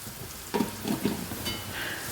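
A spatula stirs beans roast with curry leaves and turmeric powder in a frying pan, giving a few soft scraping strokes over a low steady sizzle, close and fairly quiet, with no talking.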